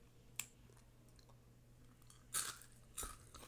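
Faint, close crunching and clicking from chewing an edible cricket, with a few sharper crunches spaced over a quiet background hum.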